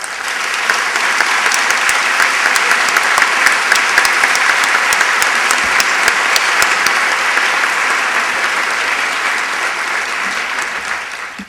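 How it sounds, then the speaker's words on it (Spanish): A conference audience breaks into sustained, dense applause that holds steady at full strength for about ten seconds before easing slightly, with sharp individual claps standing out. "Recibimos a Claudio con un aplauso del corazón"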